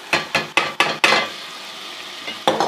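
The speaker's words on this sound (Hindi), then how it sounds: "तो अब हम इसमें दाल शामिल कर देते हैं" Lentils added to fried masala in a pan, five sharp scraping and stirring strokes in quick succession, then a pause over a faint sizzle and one more stroke near the end, close and with no talking.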